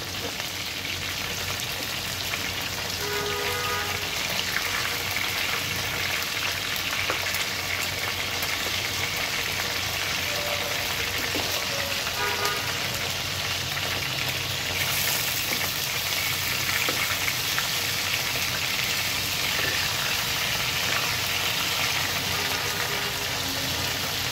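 Chicken shashlik kabab frying on low heat makes a continuous, even sizzle with faint crackles for the whole stretch, with no voices.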